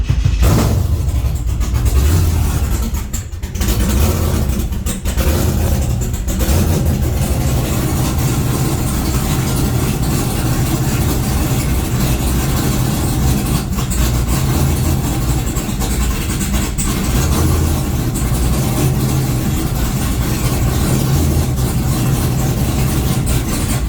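A rebuilt Honda car engine cranks and runs on its first start, giving a steady low rumbling idle throughout with small rises and dips in level and no clear speech.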